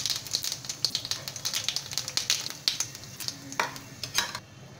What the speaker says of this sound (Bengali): শুকনো লঙ্কা দেব, তারপরে এরপর এর মধ্যে তেজপাতা দেব, তারপর এর মধ্যে জিরে দেব, দিয়ে আমি ফোড়ন দিলাম।